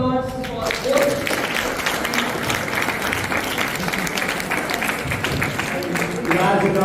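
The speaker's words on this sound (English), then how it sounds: "So, loud round of applause for both." An audience at a school inter-class debate gives a steady, dense round of applause for both debate groups, with voices talking through it at the start and end.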